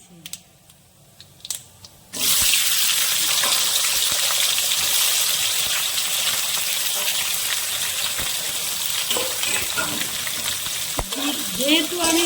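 Sliced onion hits hot oil already crackling with bay leaves, dried red chillies, whole cumin and whole garam masala for a mutton dish, bursting into a loud, steady sizzle after a few quiet clinks, with occasional stirring scrapes.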